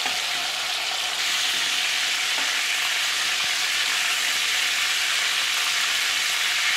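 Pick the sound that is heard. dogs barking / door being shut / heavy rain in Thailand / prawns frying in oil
prawns frying in oil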